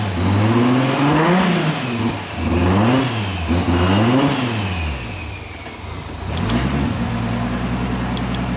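Boosted Toyota Supra engine starting and revving, several close, loud rev rises and falls in succession before settling into a steady idle.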